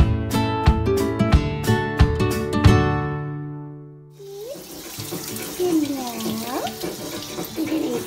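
Water runs from a tap into a sink, a steady close rush over a few seconds, with faint voices and a bird-like call in the background.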